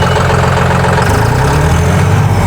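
A John Deere 5210 tractor's diesel engine runs loud and close, a steady heavy low rumble that rises in intensity as the throttle is opened, with no voices.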